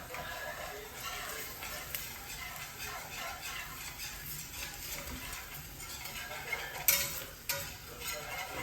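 A whisk stirs a roux in a pan on the stove for cheesy garlic fettuccine, giving a steady scraping swirl with faint sizzle underneath and a few sharper metallic clinks near the end.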